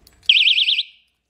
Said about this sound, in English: 140 decibel alarm that can help bring attention to you